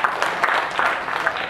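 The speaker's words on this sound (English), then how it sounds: "give them a round of applause" Students at a college lecture give a brief round of applause, a short burst of steady clapping from a crowd with voices mixed in.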